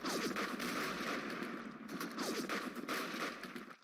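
Gunfire in a WW2 hex wargame video game, rapid bursts of shots rattling over several seconds at moderate loudness, with no talk.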